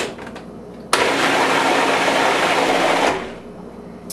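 A blender purees beets and pears for baby food, a loud steady whirring roar that starts abruptly, runs about two seconds, then cuts off, with quieter kitchen sounds on either side.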